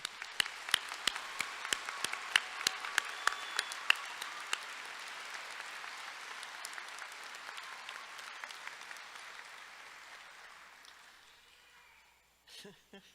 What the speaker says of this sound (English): Please join me in applauding the Rhodes State College graduating class of 2024.